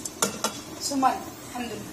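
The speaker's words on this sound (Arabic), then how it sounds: "احنا هنفضل كده نشوح في الرز كده في السمنه لحد ما ياخد اللون اصفر كده غامق" Rice stir-fried in ghee in a pot, with sharp clinks of a spoon against metal and a soft sizzle, close by, while someone speaks briefly.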